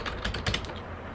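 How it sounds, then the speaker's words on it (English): Quick bursts of typing on a computer keyboard as a name is entered into a spreadsheet cell, close and clear with a light, irregular patter of keystrokes. "we can use our keyboard to enter text. I could type my name"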